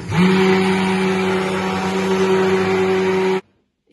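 A stick blender purees potato and nettle soup, a loud continuous motor whir and churn that runs steadily, then cuts off abruptly into near silence.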